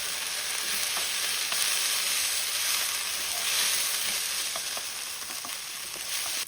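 Kimchi fries in a pan for kimchi fried rice, giving a loud, steady, bright sizzling hiss that runs unbroken throughout, with faint occasional ticks of stirring and no talking.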